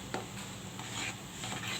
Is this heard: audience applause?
no